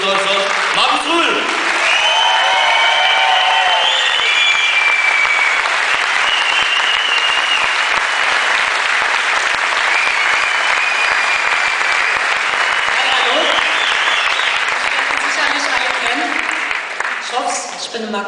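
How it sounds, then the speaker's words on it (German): An audience at a German bodybuilding championship posing show in Wiesloch, Baden-Württemberg, applauds loudly and steadily for about eighteen seconds, with cheers and whistles rising through the clapping. "wenn ihr mal richtig klatscht und richtig zeigt, dass hier in Baden-Württemberg ist und Deutschland, Markus Rühl!"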